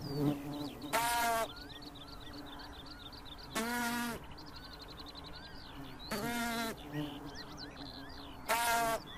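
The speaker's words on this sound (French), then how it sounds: "Des bourdonnements accompagnent l'accouplement." Wild bees buzz during mating in short, intense bursts about every two to three seconds, with quieter chirping and faint background noise between them.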